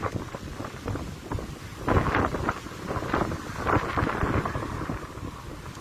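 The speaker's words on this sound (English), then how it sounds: "Very windy" Strong wind buffets the microphone in loud, gusty bursts of low roaring noise, rising and falling throughout with no one speaking.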